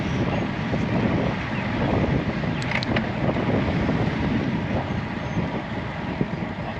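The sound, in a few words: gusty wind on bike camera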